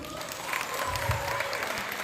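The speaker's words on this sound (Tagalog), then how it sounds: "maaari po bang makapaglambing ng isang malakas na palakpakan?" Audience applause at a Miss Gay pageant in Calangcawan Sur, Vinzons, Camarines Norte, a steady wash of clapping from a crowd that fills the whole moment, fairly loud and continuous.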